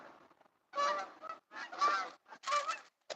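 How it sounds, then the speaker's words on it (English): Canada geese flying south give honking calls in three or four clustered bursts separated by short pauses, fairly clear but at moderate distance, with no other sound around them. "Those are Canadian geese headed south,"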